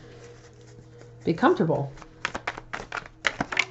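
Tarot cards riffled and shuffled by hand in a series of quick crisp bursts of flicking and snapping, close by, after a woman's brief spoken words.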